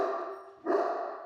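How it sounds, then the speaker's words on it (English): A single dog bark, close and moderately loud, heard in a home kitchen where pineapple is being cut. "Why must you bark?"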